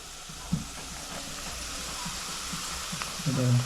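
Turmeric and homemade masala sizzle steadily in a hot pan for a crab curry, a low continuous frying hiss with a couple of faint clinks, close by and alone.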